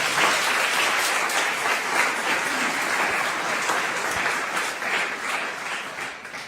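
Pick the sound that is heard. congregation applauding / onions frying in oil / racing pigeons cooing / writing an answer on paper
congregation applauding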